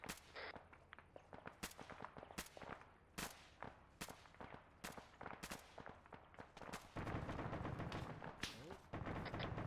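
Gunfire in a shooter video game, aimed at an enemy standing on a dish: sharp single shots spaced out, then a denser stretch of fire near the end, with faint talk in the background.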